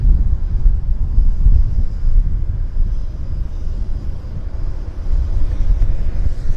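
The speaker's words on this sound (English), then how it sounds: "Embraer Porter on the roll" A Porter Airlines Embraer jet on its takeoff roll at Vancouver airport produces a continuous low rumbling roar, steady and fairly loud, with wind buffeting the microphone.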